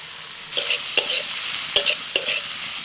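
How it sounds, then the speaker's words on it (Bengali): Boiled bottle gourd peels with green chillies frying in a pan, a soft sizzle broken by a few sharp stirring scrapes spaced about half a second apart, close and clear without any talk. "সব কিছু একটু ভেজে নিয়ে সব শেষে সিদ্ধ করা লাউয়ের খোসাগুলো দিয়ে"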